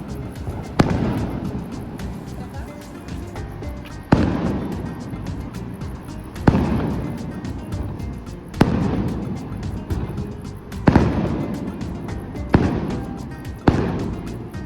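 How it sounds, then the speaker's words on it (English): Distant fireworks in Mexico thump and crackle in several separate bursts spaced a few seconds apart, each followed by a fading rumble. "we were so lucky to see the fireworks"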